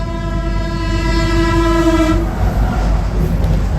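A passenger train rumbles past loudly and close, its long horn blaring for about two seconds before the horn cuts off and the steady rolling noise carries on.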